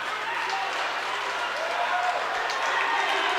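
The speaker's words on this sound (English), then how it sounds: "The crowd's coming alive a little bit." A crowd at a Penn versus Duke college wrestling dual meet rumbles and cheers in a steady wash of noise, with a commentator speaking over it.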